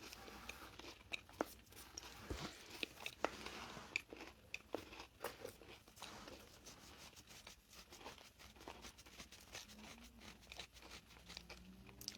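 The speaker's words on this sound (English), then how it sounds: "it's white chocolate, and B, it's a crunchy cookie, and it's not soft" A crunchy, hard white chocolate cookie is bitten and chewed up close, producing a steady run of crisp crackles and crunches at low volume with no talking.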